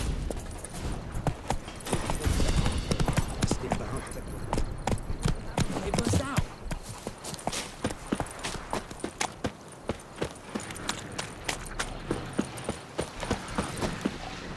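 In the video game The Witcher 3: Heart of Stone, a horse gallops in rapid, rhythmic hoofbeats over several seconds, loud and close, with dense game sound effects around it and a voice speaking.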